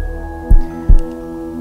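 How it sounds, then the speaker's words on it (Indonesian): Three deep, thudding heartbeats land evenly over a low hum, a close, loud sound effect for a horror story narration. "Dia makin deg-degan, denyut jantungnya pun semakin kuat."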